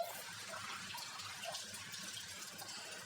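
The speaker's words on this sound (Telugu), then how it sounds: "ఇలా నీళ్ళు పోస్తూ ఉంటే అవి పెరుగుతాయి, వాటర్ సేవ్ అవుతాయి." Saved water poured onto garden plants makes a steady, soft splashing gush that runs evenly and faintly throughout with no voices.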